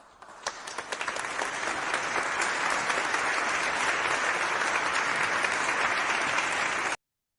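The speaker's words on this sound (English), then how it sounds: "Big applause for Jay Ellis and the Nick of Time show." Big crowd applause breaking out after a few scattered claps, swelling into a steady, dense roar of clapping that runs several seconds before cutting off abruptly.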